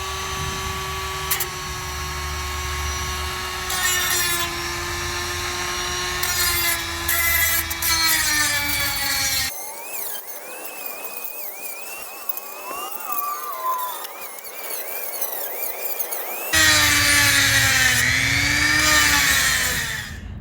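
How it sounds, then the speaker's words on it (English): Reciprocating saw cutting through rusted exhaust bolts on a 2002 Nissan Xterra, a loud steady buzzing drone that stops for several seconds midway, leaving quieter scraping and rubbing, then resumes. "The bolts, I had to sawzall the bolts off."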